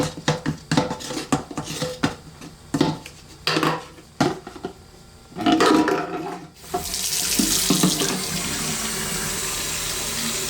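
Water pours steadily from a newly replaced bathroom sink faucet into the sink, a broad continuous hiss after a few seconds of clinking and handling sounds.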